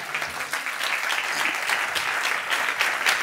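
A church congregation applauds during a Sunday service, with sustained dense clapping from many hands filling the room at a steady, fairly loud level.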